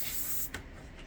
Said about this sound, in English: So again, so you just start spraying.